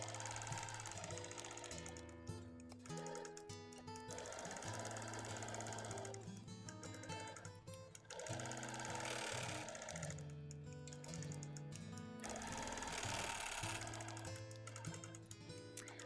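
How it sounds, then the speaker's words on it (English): A Bernina sewing machine stitching a red and white quilt runs in fast, steady mechanical bursts with brief pauses. A light rattle from a nearly empty bobbin sits under the hum. "I'm hearing the bobbin rattling just a little bit, which probably means I'm getting close to an empty bobbin"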